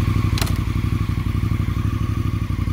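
An idling motorcycle engine runs steadily up close after starting, clutch pulled and in gear, with a steady low throbbing and a brief metallic clack near the start.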